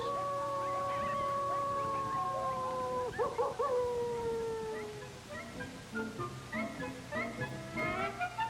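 Young canine pups give long wavering howls that bend downward, then break into a rapid string of short yelps and high barks, several voices overlapping at close range.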